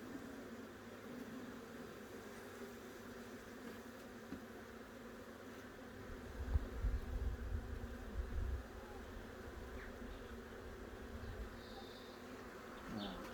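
Honeybees buzz softly and continuously inside an opened hive during an inspection, a faint low drone that holds steady under background noise, with a brief louder rumble midway.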